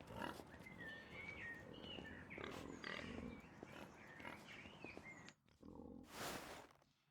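Pigs in the Pentiment video game, a close, busy mix of grunting and squealing with overlapping snorts and oinks, then a short lull and a final burst of noisy rustling.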